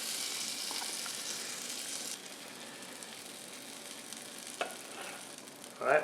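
Batter sizzles steadily in rings on a hot griddle, a close, even hiss that holds throughout with a couple of faint clicks and a slightly louder rustle at the end.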